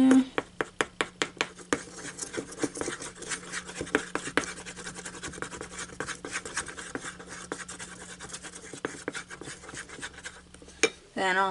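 Baking soda stirred into homemade white snow slime: a quick run of sticky, scraping strokes and clicks at the start, then a softer, steady squelching and rubbing that continues close up.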